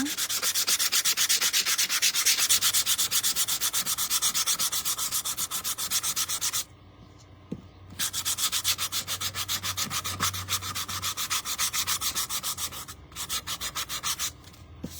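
Sandpaper rubs the wing of a painted eagle shelf sitter in steady, rapid back-and-forth strokes, close and fairly loud, with a short pause around the middle before the scratching resumes.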